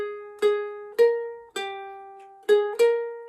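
Five plucked ukulele notes play the opening phrase of God Save the Queen, each clear ringing note decaying before the next. The instrument is close, loud and solo.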